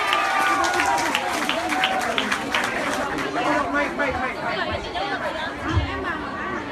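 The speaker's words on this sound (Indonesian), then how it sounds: "Mari kita tepuk tangan buat Ahok." A crowd claps for Ahok at an Indonesian gathering with a youth forum from NTT, with applause mixed into loud chatter and overlapping voices throughout.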